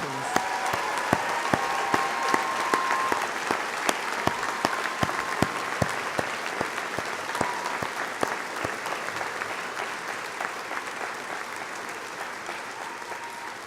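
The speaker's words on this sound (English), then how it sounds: "One more round of applause and congratulations." A large audience at a university graduation ceremony breaks into sustained applause, dense steady clapping filling a hall for over thirteen seconds with no talking.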